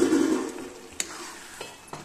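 Food cooks in a pan at home, with a soft steady sizzle and a few light scrapes and taps of a spoon stirring against the pan, close by and without talk.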